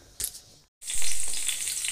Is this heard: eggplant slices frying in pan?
yes